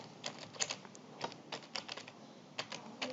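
Typing on a computer keyboard in a search box on a Windows computer, a run of quick, fairly close key clicks in uneven clusters, with no voice.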